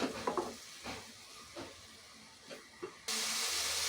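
Onions frying in oil in a pot, stirred with a few scraping clinks over a soft sizzle, then a sudden loud steady hiss of frying near the end, with no talking.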